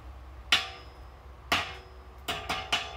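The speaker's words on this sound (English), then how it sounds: "Hit it with a hammer." A hammer strikes a welded metal part in a workshop, four sharp metallic clanks with a ringing tail, one alone, a second a second later, then three quicker blows near the end.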